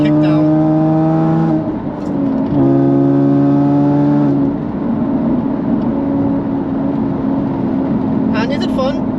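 Manual Jaguar F-Type sports car engine drops a gear and pulls hard, steady harmonic engine tones rising in pitch, loud inside the cabin with a brief dip at the shift.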